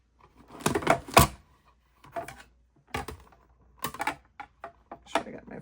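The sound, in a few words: embossing folder being cranked through an embossing machine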